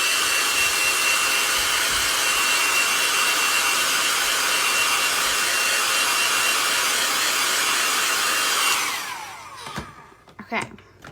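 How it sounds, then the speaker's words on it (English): A hair dryer blows on a freshly dyed tea towel, giving a loud, continuous close-up whoosh for about nine seconds before it cuts off, followed by a few soft handling knocks. "what we're going to do is blow dry it for just a second"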